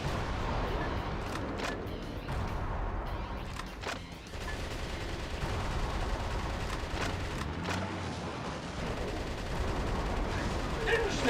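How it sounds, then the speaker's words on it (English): Video game Metal Wolf Chaos battle: bursts of gunfire and booming explosions crackle and thud repeatedly in a dense, chaotic barrage, with a voice talking over the action. "I just now realize it sounds like some of the explosions are lifted from Half-Life."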